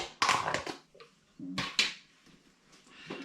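A plastic bag of brewing sugar is torn and crinkled open close up, two sharp bursts of rustling and ripping with quieter handling between.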